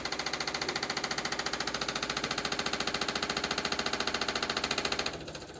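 A John Deere 420 tractor engine runs right after a cold start, a loud, rough, rapid chugging with an even pulse held for about five seconds, then it drops off abruptly into a softer idle, with no talking.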